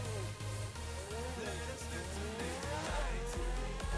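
Grotti X80 Proto supercar engine in the GTA V video game, a loud continuous roar with rising and falling revs through repeated gear shifts and a faint squeal, heard alone without talk.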